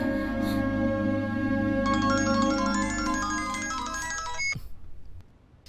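An electronic phone ringtone for an incoming call plays loudly as a repeating melodic tone pattern over a sustained drone, growing brighter midway, then cuts off abruptly and leaves a quiet room tone.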